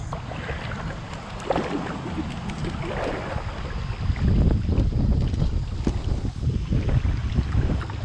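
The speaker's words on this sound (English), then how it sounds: "Yeah, it's really windy." Strong wind on a river during a kayak trip, heard as continuous heavy buffeting and rumbling wind noise on the microphone that grows louder toward the end, with water faintly beneath.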